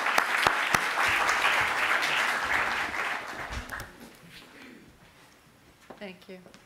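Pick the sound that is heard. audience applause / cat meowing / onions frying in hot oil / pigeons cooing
audience applause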